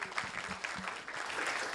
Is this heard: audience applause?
yes